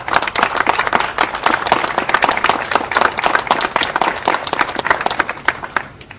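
Audience applause at a hospital donation ceremony in Chilecito, a loud, dense burst of many clapping hands that carries steadily for about six seconds and thins slightly toward the end.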